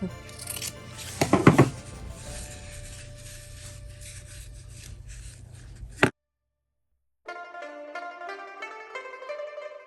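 Scissors cutting paper or craft material for a homemade Christmas decoration, close rasping snips in a quick cluster, then softer rubbing, a sudden cutoff to silence, and a short bright tonal passage.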